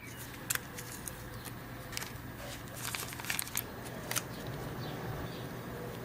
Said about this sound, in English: I'll go ahead and unwrap this and see how well it turned out.